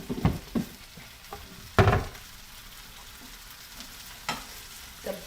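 Okra (bhindi) frying in a pan is stirred with a hot spoon, giving a soft background sizzle broken by several sharp scraping strokes, one louder than the rest, spaced irregularly and close by.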